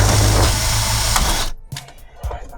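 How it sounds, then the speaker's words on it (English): A power screwdriver driving screws into IKEA wooden bed beams in an ambulance-to-campervan conversion, a loud buzzing motor whir that cuts off, followed by a few quieter knocks and clicks. "get a screwdriver on there, we'll get this screwed into the IKEA Scorver beams."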